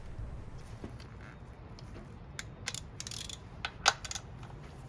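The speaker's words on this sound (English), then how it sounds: "All it takes to remove this part is an 8mm socket and ratchet" Ratchet clicks and faint metallic ticks sound as an 8mm socket loosens bolts on an Acura intake manifold plenum cover, in short scattered bursts over a quiet background hum.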